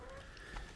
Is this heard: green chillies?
no